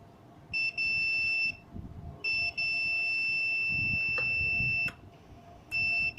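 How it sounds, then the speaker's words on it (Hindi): Continuity tester buzzer sounding in several separate electronic beeps of uneven length, steady high-pitched tones cutting on and off while the on/off switch of a record player is tested, quiet room, no voices. "पहले हम इसे बजर पे रखेंगे।"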